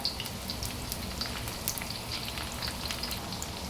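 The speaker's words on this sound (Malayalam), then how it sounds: "ചൂടായ വെളിച്ചെണ്ണയിലേക്ക് ഒരു കഷ്ണം ഇഞ്ചി ചെറുതായിട്ട് അരിഞ്ഞത്, 2 പച്ചമുളക് ചെറുതായിട്ട് അരിഞ്ഞത്, 2 ഇല്ലി കറിവേപ്പില" Chopped ginger, green chilies and curry leaves frying in hot coconut oil, a steady crackling sizzle with scattered sharp spits and pops, close and moderately loud throughout.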